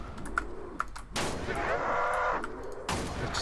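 Gunfire in the video game Valorous Expedition: sharp shots crack out, then a sustained burst of rapid fire plays over a rumbling game soundscape, with a voice talking underneath.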